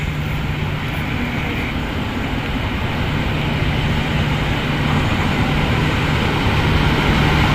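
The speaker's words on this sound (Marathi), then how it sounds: "ही दिवा पॅसेंजर ट्रेन आहे. हळू येते, कारण प्लॅटफॉर्मवरती हळूहळूच येते ट्रेन" A Diva passenger train rolls slowly into a station platform near Mumbai, a steady, loud mechanical rumble with a low droning hum that holds without pause.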